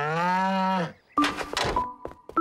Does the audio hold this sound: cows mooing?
yes